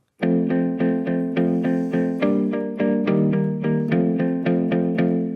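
Clean electric guitar through an amp simulator with a 60s London clean preset picks a steady, rhythmic run of bright chords, each note ringing with a slight shimmer and no distortion.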